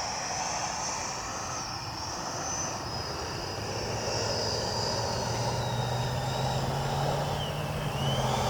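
An FMS F-86 80mm electric ducted-fan RC jet flies past with a continuous whining hiss of its fan, holding steady with a slowly shifting pitch, moderately distant and heard alone.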